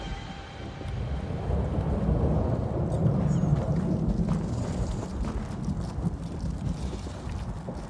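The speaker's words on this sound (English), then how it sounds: "They're probably where the lightning is striking the most." A thunderstorm in the video game ESO: The Deadlands, with a low, rolling rumble of thunder that swells and lingers under a constant storm roar, heard alone without speech.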